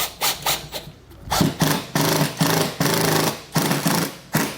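A fastener is power-driven into a pilot hole while mounting MORryde StepAbove RV steps on a 2015 Forest River Vengeance, heard as several short bursts of whirring driver noise separated by brief pauses, close and loud.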